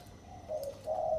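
A soft spotted dove coo, two low hooting phrases rising slightly in loudness, alone against quiet background hiss.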